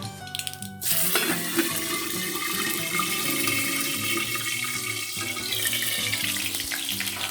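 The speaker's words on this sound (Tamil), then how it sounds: "கடுகு பொரிஞ்சிடுச்சு. கருவேப்பிலை போட்டுக்கலாம்." Curry leaves drop into hot oil where mustard seeds, fennel and cumin have already popped, for a crab masala, and a loud, steady hissing sizzle starts abruptly and runs on close up with no talk.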